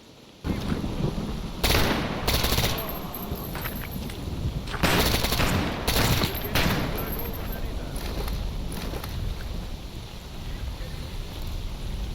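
Automatic fire from an HK-G56 rifle in the Stalker Zona mod pack, heard as several loud, sharp bursts of rapid shots, spaced a second or two apart, over a steady background rumble.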